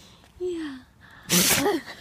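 A dog sneezes once, a sharp, loud burst close to the microphone, preceded by a brief whine and a short word from a person nearby.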